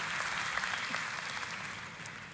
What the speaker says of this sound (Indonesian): Kita kasih tepuk tangannya pula yang paling meriah buat Tuhan kita.